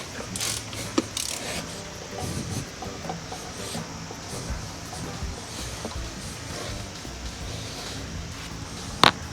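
Ratchet tightening the drive belt on a Toyota 3SGE Altezza engine fitted with individual throttle bodies, irregular clicking and metallic mechanical turning with occasional sharp knocks.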